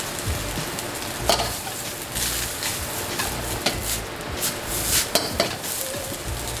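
Egg fried rice with egg and rice sizzling steadily in a hot pan as it is stirred, with scraping and clinking of a utensil against the pan at intervals, close and continuous.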